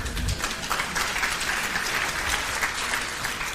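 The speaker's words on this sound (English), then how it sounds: "the applause for that was led by Elaine C." An audience at a Scottish independence podcast event applauds, giving a continuous wash of clapping at a steady level. A low rumble sits underneath and no voices stand out.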